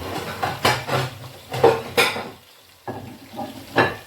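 Tilapia sizzles and crackles in a pan in uneven bursts, with brief scraping and stirring noises between them.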